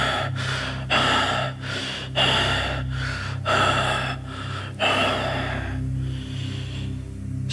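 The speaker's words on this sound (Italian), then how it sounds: "Your breath continues to rasp in rapid gasps." Rapid, rasping gasps for breath after a mountain climb, about six or seven strong inhalations in a steady rhythm over a low steady hum, fading toward the end.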